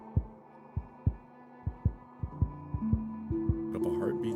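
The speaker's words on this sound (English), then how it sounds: "Put up a heartbeat sound there." Heartbeat sound effect in the video game Kinsfolk: about a dozen deep, thudding beats in a steady pulse, loud and close, with a sustained low tone rising in the background toward the end.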